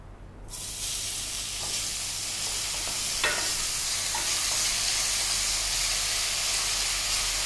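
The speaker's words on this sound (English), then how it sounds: "Now let's add the finely chopped onion." Finely chopped onion hits a hot pan and bursts into a loud, steady sizzle that holds for several seconds, with a faint clink of a utensil partway through.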